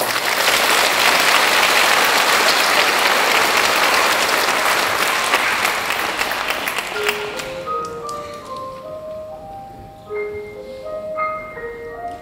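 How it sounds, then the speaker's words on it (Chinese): A concert audience gives loud, sustained applause welcoming a symphony orchestra, the clapping fading in the second half as scattered tuning notes and soft instrumental pings emerge. "让我们热烈掌声欢迎乐团"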